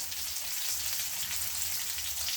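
Eggs sizzle and fry in hot oil with spices for a quick Indian egg masala, giving a steady, close, bright crackle with no talk over it.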